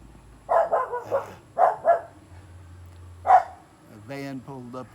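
Dogs bark in short, separated bursts nearby, a handful of yaps spread over a few seconds, ending with a higher whining yelp.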